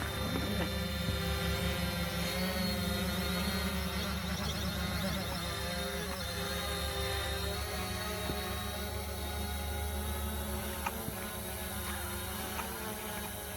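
A FIMI X8 SE drone hovers nearby, its propellers giving a continuous, droning buzz with a steady whine that holds at an even loudness throughout, with no voices over it.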